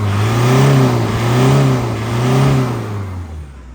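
An Isuzu D-Max 2.5 pickup engine is revved up repeatedly at close range, rising and falling in about three swells with a rough mid-pitched drone, no talking.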